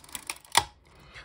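Shutter of a Bronica EC medium-format camera being cocked and fired: a few light mechanical clicks, then one loud, sharp close-up snap of the mechanism, fading into quiet.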